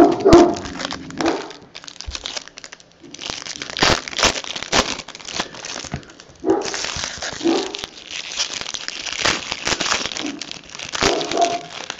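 Household dogs bark and whine intermittently over close crinkling and tearing of wrapper packaging, with the noisy bursts scattered through the stretch and no talk.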